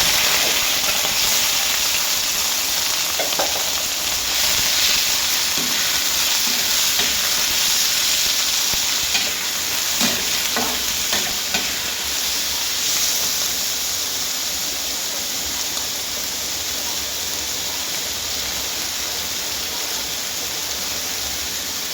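Pork frying and being stirred in a hot pan, a steady loud sizzle and hiss with occasional scraping clinks of the utensil, no talking.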